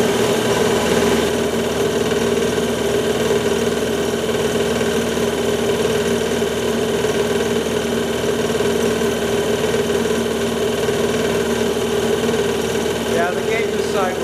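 A 5 horsepower air compressor running in a barn workshop, a steady loud motor drone with a constant hum that holds without a break.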